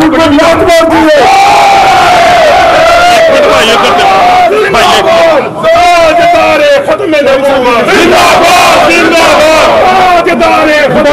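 A large crowd shouts a slogan in unison at a street protest march, loud and continuous, with voices rising and falling in repeated chant phrases.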